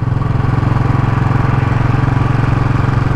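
Royal Enfield Classic 500 single-cylinder motorcycle engine fitted with a booster plug, running with a steady, even low thump and throbbing rhythm, loud and close, with no talk over it.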